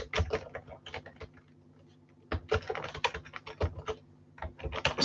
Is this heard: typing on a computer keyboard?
yes